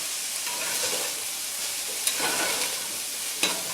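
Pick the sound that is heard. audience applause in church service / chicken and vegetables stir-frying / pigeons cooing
chicken and vegetables stir-frying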